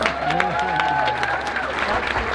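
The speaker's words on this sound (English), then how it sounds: "Everybody, let's give Dana a round of applause" An outdoor crowd at a Native American market clothing contest claps in sustained applause, with a voice speaking over the clapping.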